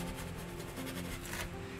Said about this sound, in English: And you can hear as I'm scumbling.